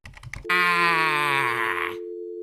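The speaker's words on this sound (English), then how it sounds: "It sounds like he hung up." Telephone receiver sounds after the caller hangs up: a few faint clicks, then a loud buzzy tone for about a second and a half that settles into a steady pure dial tone.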